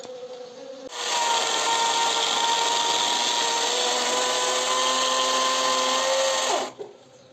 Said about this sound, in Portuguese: Eu vou fazer um corte aqui com a motosserra